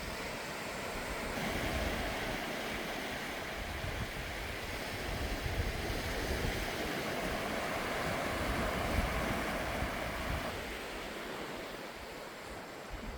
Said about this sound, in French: On est sur la plage.